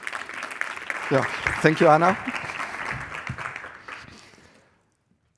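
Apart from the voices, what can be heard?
audience applause welcoming a speaker on stage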